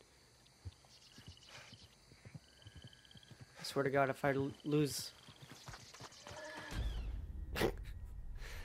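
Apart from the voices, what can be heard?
horse arriving and neighing in video game Red Dead Redemption 2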